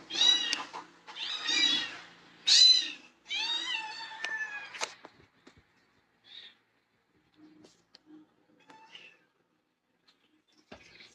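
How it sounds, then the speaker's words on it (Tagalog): Several loud, close cat meows in quick succession, each drawn-out and wavering, followed by quieter scattered rustles and faint meows. "Ang iingay ng mga pusa."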